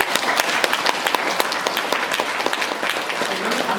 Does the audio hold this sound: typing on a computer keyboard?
no